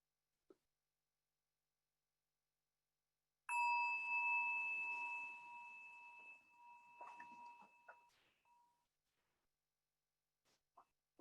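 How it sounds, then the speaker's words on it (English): A meditation bell is struck once in a quiet room, giving a clear sustained ring that slowly fades, followed by a few faint soft taps. "And that is the magic bell."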